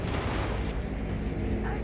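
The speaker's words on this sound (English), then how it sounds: "That's some heavy gunfire down there." Heavy gunfire in the video game Cyberpunk 2077 comes as a dense, continuous rattle of shots with booming low rumble, loud and unbroken for a couple of seconds.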